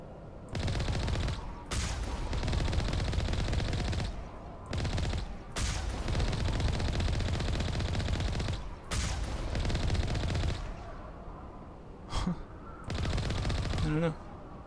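Sustained automatic gunfire in the video game Mass Effect 1 comes in long dense bursts separated by brief pauses, loud and close, with a few isolated shots near the end.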